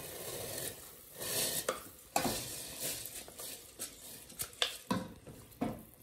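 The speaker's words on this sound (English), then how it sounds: "So after washing the rice, I'll add it to the chicken stock." Washed rice is poured into chicken stock in a pot and stirred, giving close, soft scraping and sloshing with irregular clinks of a utensil against the pot, and no voices.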